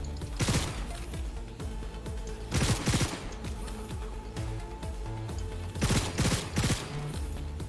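Gunfire in the video game Cyberpunk 2077, loud bursts of rapid automatic shots in three clusters separated by quieter stretches of game ambience.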